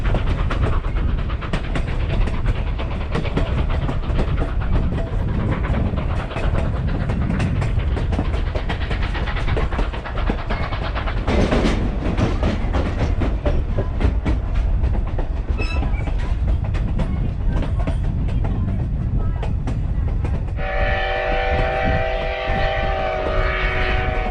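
Continuous rumbling and clattering of a narrow gauge steam train on the Durango & Silverton railroad rolling on rails near Silverton, with a tonal whistle rising near the end.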